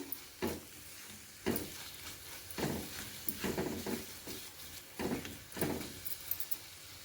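A spatula stirs and scrapes eggs in a pan for egg chaat, making repeated bursts of scraping with light sizzling between the strokes, close and fairly loud.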